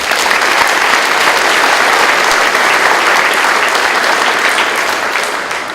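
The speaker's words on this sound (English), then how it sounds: "Let's give a round of applause to these people." Loud, dense applause from a crowd at a Marlette High School graduation ceremony in 2019, sustained steadily from start to finish and easing slightly at the end, with no speech over it.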